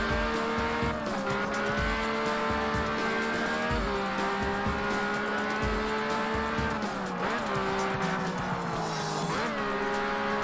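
A Lamborghini Diablo GTR races in a video game, its engine droning steadily with pitch rising and falling through gear changes, with tire squeal and bursts of skidding throughout, close and loud with no talk.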